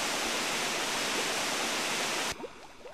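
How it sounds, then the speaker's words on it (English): Water drains in Paper Mario: The Thousand-Year Door as a loud, steady rush that cuts off abruptly near the end, leaving a few soft splashy sounds behind. "Now we'll just drain that water."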